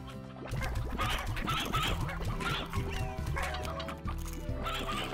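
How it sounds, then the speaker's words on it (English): Chickens cluck in the video game Slime Rancher, a busy flock sounding continuously over a steady bed of game music. "because look at all these chickens."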